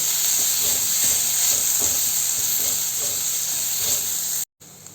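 Crushed shallots and curry leaves frying in hot oil give a steady, close hiss and sizzle that runs unbroken for several seconds before cutting out abruptly near the end.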